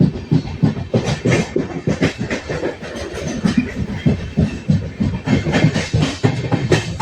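Inside a moving passenger train from Gandhidham to Tirunelveli, wheels and carriages give a loud, continuous rumble with rhythmic clickety-clack over the rails.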